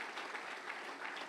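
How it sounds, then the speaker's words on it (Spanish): Faint, steady clapping from a church congregation, a brief even patter of applause with no voices standing out. "strong round of applause to the Lord."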